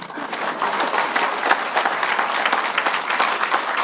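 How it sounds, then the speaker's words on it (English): An audience at a convocation ceremony claps in a dense, lively burst of many overlapping hand claps that holds steady for a few seconds, fairly close and with no talking over it. "you can clap"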